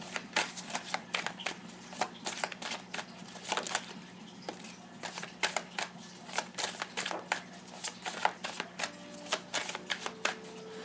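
Tarot cards are shuffled for a pick-a-card reading, giving repeated crisp riffles and flicks in quick irregular bursts, close and clear, with a low steady hum underneath.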